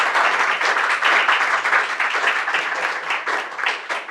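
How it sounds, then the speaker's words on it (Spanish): A lecture audience breaks into dense, steady applause, many hands clapping together at a close, even level for several seconds without pause. "un fuerte aplauso nuevamente para nosotros"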